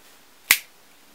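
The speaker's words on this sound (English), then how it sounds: "I'm going to snap my fingers, and when I do, you're going to imagine that your card turns invisible" A single sharp finger snap rings out once, close and crisp, during a card magic trick, with quiet before and after.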